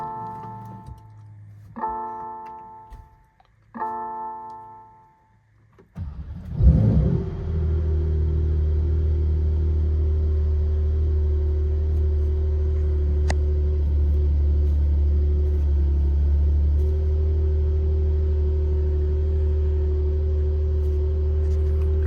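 A 2022 Porsche Turbo S cold-starts after sitting three weeks: faint ticking first, then a loud crank and engine flare that settles into a steady, deep, rumbling idle held for the rest of the time.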